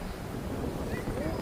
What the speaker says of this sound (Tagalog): Lakas ng hangin. Parang may bagyo.